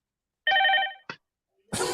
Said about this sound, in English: They're not going to stop calling, and it's ringing that many times.